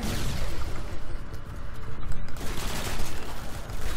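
Call of Duty Modern Warfare 2 Spec Ops gunfire, dense continuous bursts of automatic shots and booms filling the whole stretch at close range.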